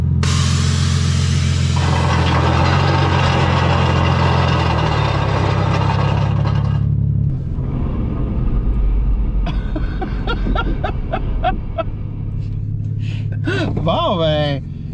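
A 2007 Lexus IS 350 engine roars loud and steady for about seven seconds, then drops to a lower rumble with sharp squealing bursts that fit spinning tires, and a voice talks over it.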